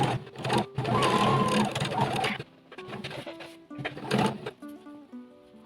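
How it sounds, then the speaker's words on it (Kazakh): A sewing machine stitches the seams of a tubeteika cap in a couple of close, whirring bursts, then stops, leaving only quieter scattered taps and faint tonal chirps. "Ал енді тігістерімізді машинкада жүргіземіз."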